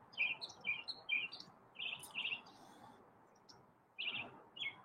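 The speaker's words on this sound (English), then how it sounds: "Chirpy is up chirping away." A small bird chirps in a tree in short, bright bursts, with a few quick calls in a row, a pause, then more, close and clear over a soft outdoor background hum.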